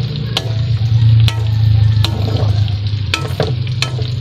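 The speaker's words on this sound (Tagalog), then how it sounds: "Uy, hinalo na pati yung squid ball natin." Squid balls being stirred into pancit bihon in a pan, a steady low sizzle running throughout with several sharp clacks of the utensil against the pan, close and fairly loud.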